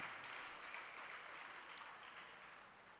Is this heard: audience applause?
yes